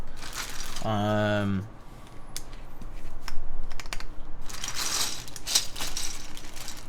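Keys clatter on a Dalco 959 Mini GT keyboard fitted with mechanical switches. Bursts of clicky typing come in quick runs close up, with a person talking over part of it.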